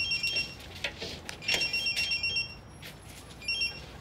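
A mobile phone rings in a Spanish police drama series: repeated electronic ringing bursts, fairly close, pulsing steadily over faint room noise with no talk.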